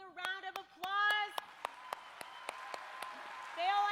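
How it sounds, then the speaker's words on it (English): At a Kansas FFA convention session, a few scattered claps ring out, with speech over the start and again at the end. "Give yourselves a round of applause."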